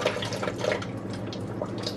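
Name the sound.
rinsing basmati rice in water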